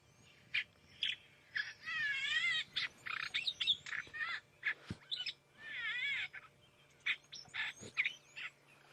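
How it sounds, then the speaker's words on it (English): A greater blue-eared glossy starling call is played back outdoors at sunrise on a safari in Sabi Sand. Harsh, buzzy warbling phrases repeat in bursts, mixed with sharp chirps, over a faint low hum. "let me play the call of the greater blue-eared glossy starling"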